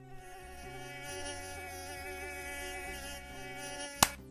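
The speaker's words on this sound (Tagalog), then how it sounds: "Isa pang satisfying dito, kapag napatay mo yung lamok na kumagat sa'yo." A mosquito whines close to the ear in a thin, steady, wavering buzz that holds for several seconds, then ends with a sharp slap-like click near the end.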